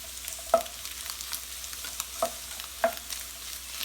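Onions frying in a pan for egg veggie noodles give a quiet, steady sizzle, with a few sharp scrapes or taps of a utensil against the pan at irregular intervals.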